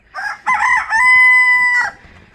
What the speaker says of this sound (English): All these over here are roosters